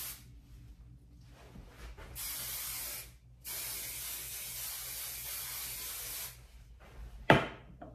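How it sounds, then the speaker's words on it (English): Hairspray from an aerosol can sprays onto dry curly hair in two long, loud, steady hisses, each several seconds long, separated by short pauses, followed by a brief clatter. "spray it all over as best you can"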